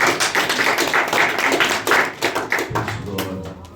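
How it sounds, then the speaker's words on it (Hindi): A church congregation claps for God during a Hindi worship gathering, with sharp, fairly close hand claps in a quick, uneven rhythm that fades toward the end as a voice rises underneath. "एक अच्छा ताली बजाएं प्रभु के लिए"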